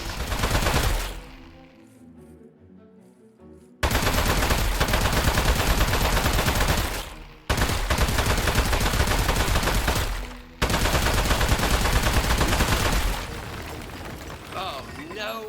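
Sustained bursts of video-game gunfire hammer a metal robot in Aperture Desk Job, loud and near, in long rapid volleys broken by brief pauses, with voices talking over the shooting.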